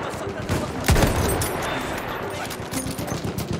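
Battlefield 1 gunfire: bursts of rapid shots crackling over a noisy battlefield, one heavier report early on, with someone talking over the action.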